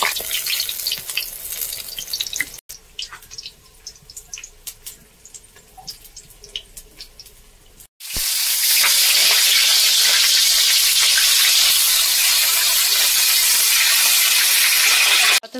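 Water lily (shapla) flower pakoras fry in hot oil, with soft scattered crackles at first, then a loud, steady sizzling hiss that fills the second half.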